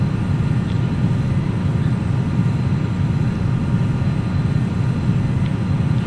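Jet engines of a Challenger 300 in X-Plane 11 flight simulation throttling back to climb, a steady loud broadband roar with low rumble holding constant throughout, no voices.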